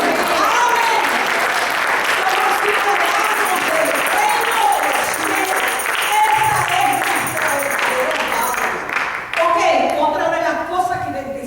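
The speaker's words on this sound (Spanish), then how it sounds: "¿Cuánto le damos un aplauso a Dios?" A church congregation applauds during a Spanish-language sermon, a loud, dense wash of clapping that fills the room and trails off near the end as a voice speaks over it.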